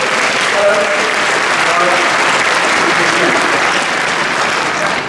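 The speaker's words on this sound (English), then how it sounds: "Give this young man a round of applause" A crowd at a corporate innovation talk in Toronto bursts into loud, sustained applause, with dense clapping and a few cheers that continue without a break.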